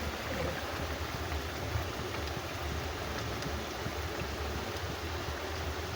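Food simmers in a pot on a home stove, a dish finished with raw mustard oil, making a soft, steady bubbling hiss that carries on evenly at low volume with no speech.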